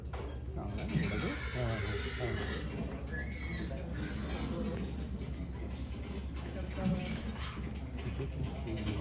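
A horse with a rider on its back neighs and whinnies in short bursts over a steady low hum, with people talking nearby throughout.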